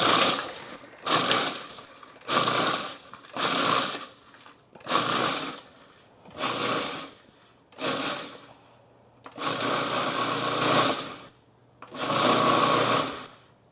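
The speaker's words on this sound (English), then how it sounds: "Now here in my food processor, I have just a 180 gram box of Ritz Crackers. And I'm going to put this on and pulse it." Food processor pulsing a 180 gram box of Ritz crackers into crumbs: nine loud whirring bursts of one to two seconds each, separated by short pauses, the last two held longer.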